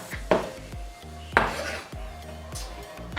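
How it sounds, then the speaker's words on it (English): A knife chops a large turnip into chunks for soup, giving a few sharp knocks on a board with clinking of dishes between them, close and with no talk. "Now I'm chopping up some turnips."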